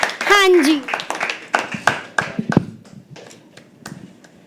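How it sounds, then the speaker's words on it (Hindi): Audience applause at a live poetry open mic as a performer walks up to the stage, a burst of scattered hand claps under a voice at the start, then thinning out to a few sparse claps. "तालियां तब तक बजती रहे जब तक सर स्टेज पे नहीं पहुंच जाते और माइक ग्रहण नहीं कर लेते।"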